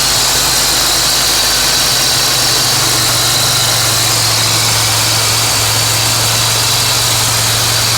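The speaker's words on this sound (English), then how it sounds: "So the car's running, everything's smooth with the belts." A GM 3800 V6 in a Grand Prix, Monte Carlo or Buick Regal idles steadily after an alternator replacement, a smooth, even engine hum with a low drone and broadband hiss, close and constant with no talk.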